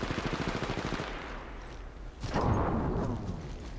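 Video game gunfire from Apex Legends Mobile, a rapid burst of automatic shots at moderate distance followed by a heavier blast-like roar that swells and fades.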